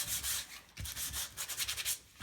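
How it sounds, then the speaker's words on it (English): Quick back-and-forth sanding strokes along paper edges, a dry scratchy rasp repeating in short bursts, close by with no talking. "I'm just going to do a quick sanding around the edge"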